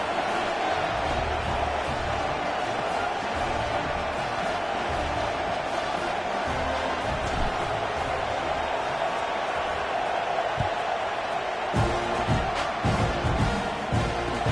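A stadium crowd at a Clemson at Texas A&M game in a college football video game sends up a steady, broad roar throughout, swelling slightly toward the end with faint cheering.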